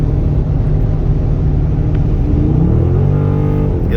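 Loud, continuous engine roar from a 2020 Dodge Charger 392 under hard acceleration, a deep rumble with harmonics climbing steadily in pitch toward the end as revs build, heard close from inside the car.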